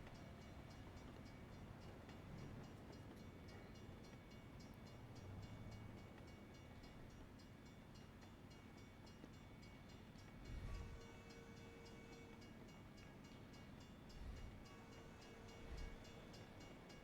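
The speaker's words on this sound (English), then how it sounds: "gotta wait for the train though" A train rumbles past a crossing in American Truck Simulator, a steady low continuous roll with a few heavier thumps near the end, heard fairly faintly without talk.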